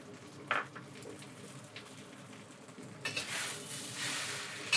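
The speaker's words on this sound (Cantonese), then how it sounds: "慢慢炒，唔好炒斷啲河粉" Beef ho fun rice noodles stir-fried with egg in an iron wok, with steady soft sizzling under repeated metallic scrapes and clinks of a spatula, and the frying grows louder near the end.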